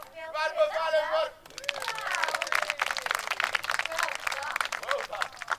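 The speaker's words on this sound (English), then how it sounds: "Round of applause, everyone." Audience applause and cheering at a theatre production of Alice's Adventures in Wonderland, a dense burst of clapping mixed with excited crowd voices after a brief stretch of harmonic vocalizing at the start.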